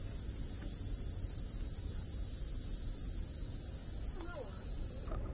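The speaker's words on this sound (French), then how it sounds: "Écoutez, soudain il y a plein de cigales qui se sont mis à hurler d'un coup." A dense chorus of cicadas in Taipei shrills loudly and steadily as one continuous high buzz, then cuts off abruptly near the end.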